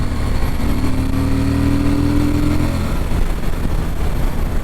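A Suzuki V-Strom 1050 motorcycle engine drones steadily with a deep throaty exhaust note, holding a constant loud rumble with a slight pitch shift partway through.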